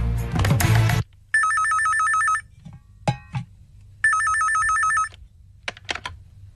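A telephone rings with a loud, close electronic warbling tone in two separate bursts, with a brief noisy clatter before the first ring and a few small knocks between the rings. No voices are heard.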